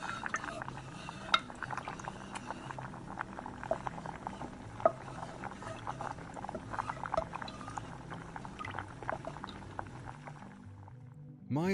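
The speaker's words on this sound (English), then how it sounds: "Place the lid on the pot only lightly and heat it over a low heat while stirring" Beef stew heats in a pot over low heat and is stirred now and then, producing faint, soft liquid patter with small clicks and taps throughout.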